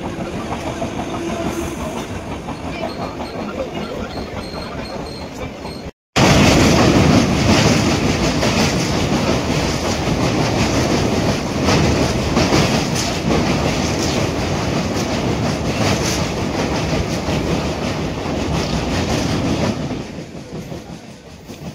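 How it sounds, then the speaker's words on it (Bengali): The Dhauli Express, running from Shalimar to Puri, rolls into Bhubaneswar with a loud, steady rumble and rhythmic clickety-clack of the wheels heard from inside the coach, briefly cut near the start and easing off at the end. "আমাদের ট্রেন এখন ভুবনেশ্বরে ঢুকছে, এখানে স্টপেজ আছে 5 মিনিট।"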